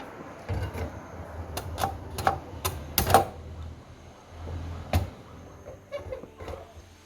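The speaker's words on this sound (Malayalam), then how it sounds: "ഞാൻ ഗ്യാസ് ഒന്ന് കത്തിക്കുകയാണ്" A gas stove being lit in a home kitchen gives a few faint, sharp ignition clicks spaced across a quiet background.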